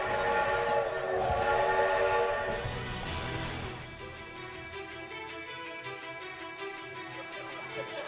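A loud, sustained train whistle blares with rich harmonic tones, then fades into a softer lingering chord as the train sound carries on.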